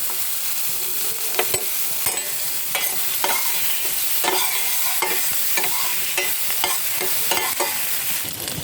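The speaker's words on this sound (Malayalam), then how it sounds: "നമുക്ക് അതിലേക്ക് ഗാർലിക്കും ചെറിയ ഉള്ളിയാണ് തക്കാളി ചേർക്കാം ഇഞ്ചിയാണ് അരച്ച് വെച്ചതും ചേർക്കണം അല്ലേ മിക്സ് ആക്കാം" Garlic, shallots, tomato and ginger paste stirred in a frying pan, a steady sizzle broken by repeated sharp scraping strokes of a spatula, close and fairly loud with no talking.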